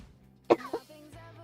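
Two quick, close coughs from one person, a sharp first burst followed by a smaller one, with a brief voiced sound after in an otherwise quiet room.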